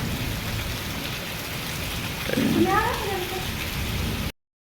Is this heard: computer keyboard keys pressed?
no